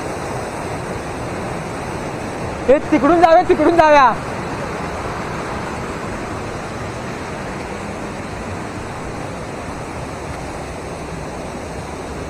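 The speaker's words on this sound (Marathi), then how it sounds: "बघा नोव्हेंबर महिना चालू आहे तरी पाणी किती बघा प्रेशरने येते" Steady broadband rush of water forced out under strong pressure in November, a continuous loud roar filling the whole clip while a voice briefly speaks over it.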